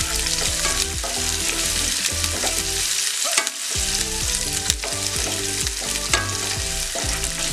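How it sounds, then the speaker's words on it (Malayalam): Finely chopped green chillies (two) dropped into hot oil in a pan for Thalassery chicken pathiri, loud dense crackling sizzle with stirring scrapes and a brief dip, no voices. "ഇതിലേക്ക് ചെറുതായി അരിഞ്ഞ പച്ചമുളക് ഇട്ട് കൊടുക്കാം."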